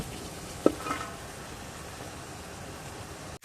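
Paste dropped into a hot frying pan sizzles steadily, a brief clatter near the start, with a continuous hiss that runs alone until an abrupt cutoff near the end.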